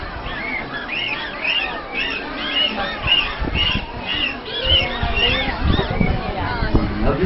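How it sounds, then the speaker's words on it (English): Dolphins at an ocean-park show making squeaks, whistles and squawky calls, a busy stream of high chirping tones over crowd noise and a voice talking. "they also use those blowholes to talk, using a variety of sounds like clicks, squeaks, squawks, and also whistles."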